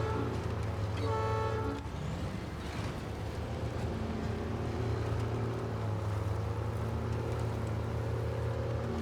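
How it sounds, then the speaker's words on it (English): A truck in a driving video game blasts a deep, train-like air horn in one sustained honk, loud and close over a steady low engine drone and background music, the horn fading after about two seconds while the engine hum continues. "this truck honks like a train"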